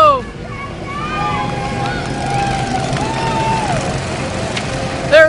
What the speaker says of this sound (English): Here they come for the first lap of the Mini 500, and they're off!